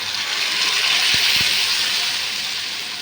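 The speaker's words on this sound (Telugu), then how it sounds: "బాగా వేసాక వాటర్ పోస్తున్నాను." Water poured into upma in a pan, a steady rushing hiss with a couple of low clunks partway through, close and fairly loud, gradually fading.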